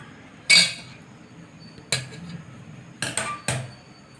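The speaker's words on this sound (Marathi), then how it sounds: "गॅसवरती कढई ठेवून घेऊया।" A wok set down on a gas stove in a home kitchen, making a few sharp metallic clanks and knocks spaced apart, close and distinct against a quiet background.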